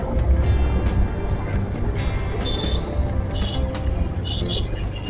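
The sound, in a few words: motorcycles starting a group ride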